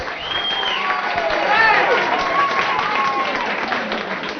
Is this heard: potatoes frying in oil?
no